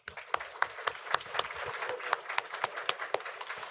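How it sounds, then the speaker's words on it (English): Audience applause fills a board of education meeting room: many hands clapping steadily for about four seconds, a dense patter with sharper individual claps standing out, close and fairly loud. "One round of applause, please."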